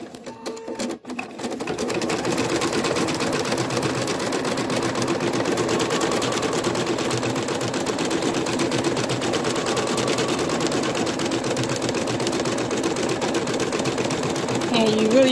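A Viking Designer embroidery machine with a 180x130 magnetic hoop stitches minky fabric in a fast, steady mechanical chatter that starts after a second and runs continuously and close.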